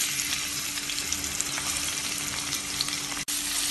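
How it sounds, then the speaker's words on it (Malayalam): Two thinly sliced onions frying in ghee, a continuous close crackling sizzle with soft stirring underneath, no talk. "ഇനി ഇതേ നെയ്യിലേക്ക് 2 സവാള നേർത്തതായി മുറിച്ചതിട്ട് വറുത്തെടുക്കാം"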